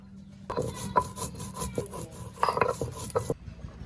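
Garlic, ginger and cumin being ground into a paste for a bamboo chicken recipe cooked on a clay stove: close, rough scraping and rubbing strokes in an uneven rhythm, with a few sharper knocks, and no talking.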